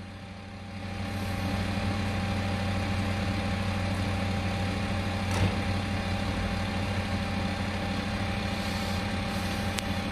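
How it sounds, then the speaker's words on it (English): An unattended truck left idling on a Saturday morning street in Hammersmith, London, gives a steady, droning engine hum that holds constant throughout, with a faint click or clunk partway through. "It's just left there, engine running, unattended."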